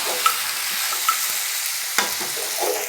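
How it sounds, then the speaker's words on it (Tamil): Tomatoes sauté in a hot pan over softened onions for a chicken gravy, giving a constant bright sizzle. A few light clicks and scrapes come from a spoon stirring, heard close with no talk. "தக்காளி போட்டு வதக்கிக்கலாம்"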